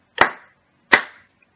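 Two sharp hand claps land about three quarters of a second apart, crisp and close with a short room decay after each, separated by silence.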